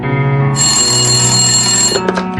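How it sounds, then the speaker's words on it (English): A telephone rings with a loud, steady electronic tone that carries on through the whole moment, close and alone with no voices. "I was living with my father at the time when he received a phone call."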